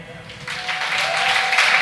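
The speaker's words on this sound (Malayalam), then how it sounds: "നല്ലൊരു കൈയടി." A school arts festival audience breaks into applause, the clapping building from quiet to a full, steady roar of many hands in a hall.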